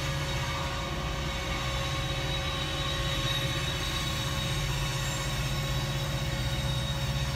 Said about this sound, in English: It's like a never-ending freaking train.